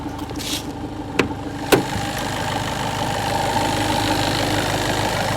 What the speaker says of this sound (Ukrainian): Покажу, як працює двигун.